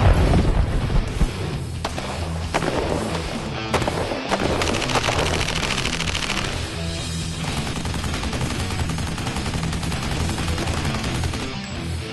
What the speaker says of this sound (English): All right, Conrad, I'm gonna have you just shoot from what we call position 3.